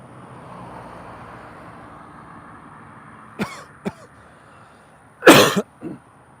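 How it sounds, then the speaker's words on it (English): Against a faint background hum, a couple of short throat sounds come first, then a loud, harsh cough bursts out nearby and is followed by a smaller one. "I have no idea what's causing that cough."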